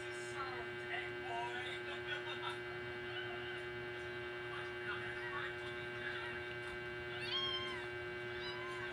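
A cat gives a few faint, short meows indoors over a steady electrical hum.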